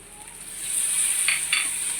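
Shrimp dropped into a hot frying pan for a Bengali taro-stolon curry, a steady hissing sizzle swelling up and holding close, with a couple of brief spatter bursts and no talking.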